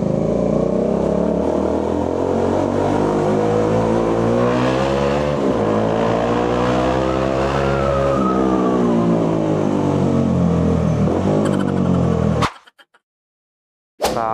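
A Bajaj Dominar 400 motorcycle engine revs up and down in rising and falling sweeps amid road traffic in Binangonan, Rizal, loud and steady before cutting out abruptly near the end.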